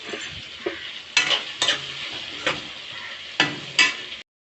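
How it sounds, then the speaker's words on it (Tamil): Onions sauté in a pan for a home-style kuzhambu, bursts of loud sizzling that swell each time a ladle stirs them, several separate stirs in quick succession, close up with no talking. "வெங்காயம் நல்லா வதங்கட்டும்"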